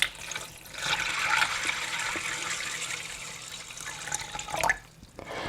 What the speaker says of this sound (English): I'm going to fill that up with water